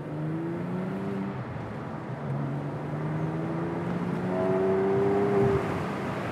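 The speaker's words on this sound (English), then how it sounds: "as I drop down to the second, that burble you get out of the sports exhaust" A Porsche 911 Carrera S 997.1 with sports exhaust, heard from inside during a test drive as it drops to second gear: a throaty engine drone with rising and falling tones and a rumbling burble on the downshift, fairly loud and close.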